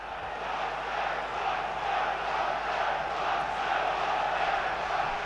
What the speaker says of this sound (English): some noise from the home areas of the crowd finally